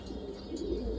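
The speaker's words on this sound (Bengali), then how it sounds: "এই যে একটা মাদি কবুতর" A female pigeon, a flying breed kept at home, gives a soft, low coo in one brief call over a faint steady hum.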